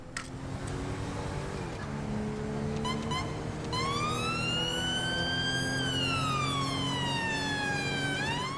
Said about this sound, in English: now let's hope this Mercedes, I think it's the AMG, can pick up some serious speed here for us